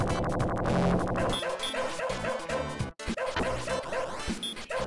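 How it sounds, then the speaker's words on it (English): A dog barks and yelps amid loud retro game music and effects in the Sega Genesis title Shadow Dancer, with a brief cut of silence midway. "We put the dog to use on that level."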